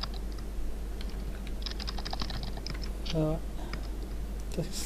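Rapid, close clatter of keys on a computer keyboard, bursts of uneven tapping with a short voiced sound partway through and faint talk in the background.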